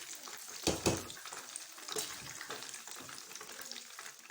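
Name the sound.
chicken leg pieces deep frying in oil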